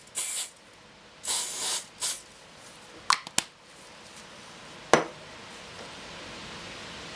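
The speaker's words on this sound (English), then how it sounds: "Give it a bit of a spray with the activator." Glue activator is sprayed from an aerosol can in several short hissing bursts, close up, with a few sharp clicks and taps between the sprays.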